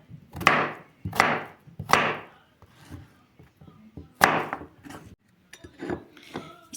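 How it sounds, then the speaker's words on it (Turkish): A knife chopping pumpkin for pumpkin plov, with several loud, sharp cuts on a board in a quick group, a pause with faint clatter, then more cuts spaced apart. "Bu ölçüde her birini doğrayacağam."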